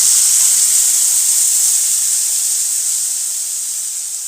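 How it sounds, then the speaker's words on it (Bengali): Chilli, ginger, garlic and onion paste fries in hot oil for a fish curry with spring onion greens, giving a loud, steady high hiss that eases slightly toward the end, with no voices. "এবার এর মধ্যে মশলা দেব, লঙ্কা বাটা, আদা বাটা, রসুন বাটা, পেঁয়াজ বাটা একসঙ্গে করে একবারে দিয়ে দিলাম"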